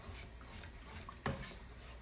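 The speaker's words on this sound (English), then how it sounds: "you're going to want to stir, stir, stir, stir" Giblet gravy being stirred in a pan gives faint, soft scraping and swishing close by, with a single sharper clink of the utensil against the pan partway through.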